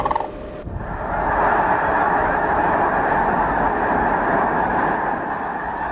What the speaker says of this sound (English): those sandhill cranes, and the beautiful, beautiful sound they make